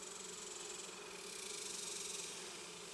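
A steady, dense hum of many Italian honeybees buzzing together in a hive, faint and continuous with a slight pulsing flutter, no voices.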